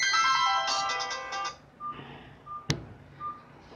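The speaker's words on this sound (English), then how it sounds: "Then there is this nocturnal ringtone." A Nokia 3310's Nocturnal ringtone plays a bright electronic quick melodic phrase of chiming notes, then fades into quiet with a few faint beeps and a sharp click.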